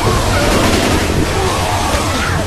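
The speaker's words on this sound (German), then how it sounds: "Huma fällt schon hin und explodiert" A dense, roaring explosion in Left 4 Dead 2 fills the whole stretch loudly and continuously with crashing, rumbling texture.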